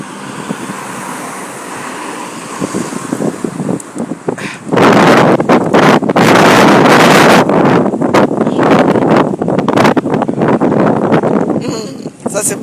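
Strong wind gusts outdoors, starting as a quieter rumble and then swelling into loud, buffeting roars that batter the microphone and rise and fall over several seconds, with people talking underneath.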